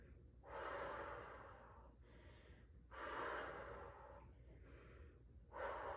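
Close, rhythmic breathing during a workout circuit, with repeated cycles of a short sharp inhale followed by a longer, forceful exhale, loud and breathy with no speech.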